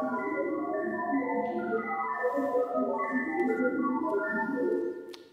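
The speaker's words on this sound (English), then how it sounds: "Just a random sequence of tones." Rapid random sequence of 50-millisecond pure tones drawn from a pool of 20 frequencies, a fast, steady, jittery stream of beeps at moderate level that cuts off at the end.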